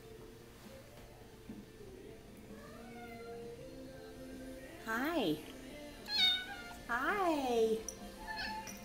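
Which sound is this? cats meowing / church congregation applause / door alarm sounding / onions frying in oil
cats meowing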